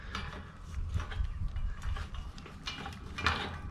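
A wrench wiggles a padlock fastened to a chain, giving off repeated metallic clanks and rattles in an irregular rhythm, close and fairly quiet, with no talking.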